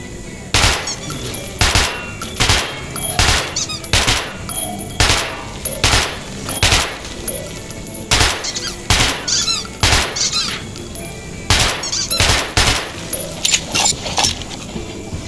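Loud shots ring out on a firing range in Metro 2033 Redux, fired one after another in irregular bursts and clusters across the whole stretch, each crack close and sharp against a low underground hum.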